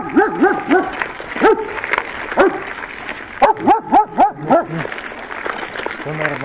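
Village dogs barking at night near Goczałkowice Lake, several animals yapping and howling in uneven bursts, some close and some farther off, with a person talking between them.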